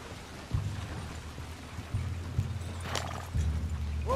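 Horse hooves drum in a steady, fairly loud gallop through the Red Dead Redemption 2 game world, with rain or thunder rumbling faintly underneath and a brief whinny near the end.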